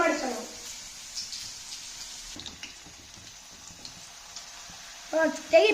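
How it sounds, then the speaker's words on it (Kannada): Layered buns frying in oil give a steady soft sizzle at moderate level, with a few louder bubbling bursts near the end. "ಎಣ್ಣೆಗೆ ಹಾಕ್ಬಿಟ್ಟು ಈಗ ಫ್ರೈ ಮಾಡ್ತಾ ಇದ್ದಾನೆ"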